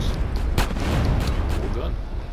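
Gang members open fire in GTA San Andreas, with a few sharp gunshots cracking over a dense, rumbling street-fight mix while a voice talks throughout.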